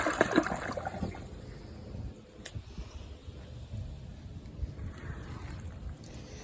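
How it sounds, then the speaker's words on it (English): A new 2023 Project Source Pro toilet doing a full big flush, with a quick rushing surge of water that settles into a quieter draining swirl, close by and alone. "Actually, let's do the big flush."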